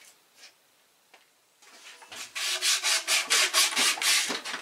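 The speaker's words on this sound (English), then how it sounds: "I'm going to take a plastic razor blade, get the rest of it off." A plastic razor blade scrapes old gasket material off the lower unit of a 1996 Mercury 115 hp two-stroke outboard, starting with faint scratches and then a quick, loud run of rhythmic rasping strokes up close.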